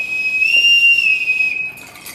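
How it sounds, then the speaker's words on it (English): A bosun's pipe gives one loud, sustained shrill note that holds steady for about a second and a half, then breaks off, with nothing else heard. "the bosun gives the orders to the sailors by using this whistle called the bosun's pipe"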